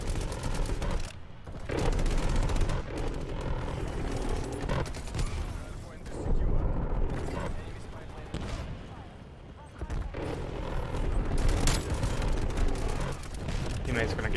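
Video game gunfire from a teammate shooting an EM2 rifle, bursts of rapid shots and booms recurring across the stretch in uneven clusters, loud and dense with brief lulls between volleys.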